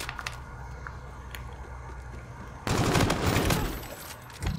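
Burst of gunfire in the shooter game Infinite Warfare, a sudden loud rattling fusillade that starts midway and carries on close and dense for about two seconds, with a brief final pop.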